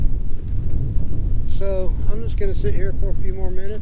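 Strong wind buffets a campsite at dusk, a steady low roar and rumble against the microphone throughout, while someone talks over it in the middle stretch.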